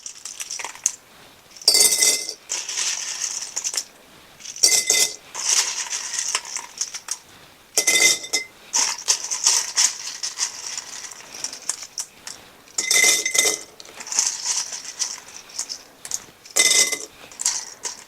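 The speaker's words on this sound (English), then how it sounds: "So I'm going to put my pasta in the jar." Dry pasta clatters and rattles into a glass jar in uneven bursts, sharp clinking pours separated by short pauses, close and fairly loud.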